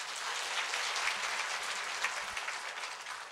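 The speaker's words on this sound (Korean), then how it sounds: "예, 박수 한번 보내주세요." Dense, steady clapping from an audience at a lecture for pastors, a continuous wash of hand claps that stays loud for the whole stretch and fades slightly at the end, with no voices over it.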